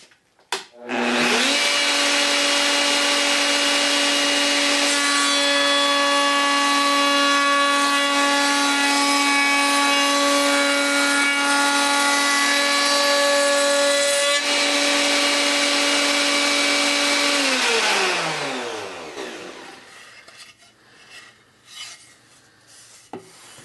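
A router table spins up with a loud, steady high-pitched whine as wood is run through the bit, the tone holding close and constant for many seconds before winding down and fading out.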